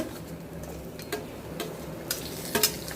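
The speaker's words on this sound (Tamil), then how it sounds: "இந்த வெங்காயம் வதங்கட்டும்" Shallots soften in a pan for a Tamil village-style kuzhambu, giving a quiet, low sizzle broken by a few sharp clicks and scrapes of a spoon stirring.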